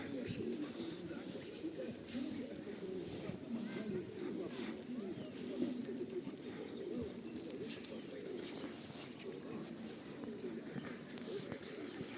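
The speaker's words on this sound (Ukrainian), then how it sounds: "Голуби." Pigeons coo softly and repeatedly amid a busy outdoor background in snowy Truskavets, Ukraine, with occasional rustling and faint footsteps; no clear talking.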